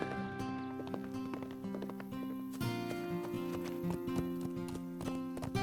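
Horse hooves clip-clop steadily over a layer of music, with a brief whinny-like sound partway through.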